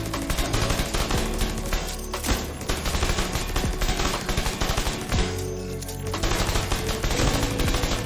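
Rapid automatic gunfire from an assault turret in The Division 2, dense and continuous bursts of shots layered with other game effects, loud and close throughout with only brief dips in intensity.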